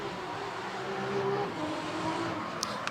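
A drift car at the Manfeild circuit in a D1NZ Pro-Championship Top 24 battle accelerates hard out of a corner, its engine note a steady, distant roar under trackside ambience.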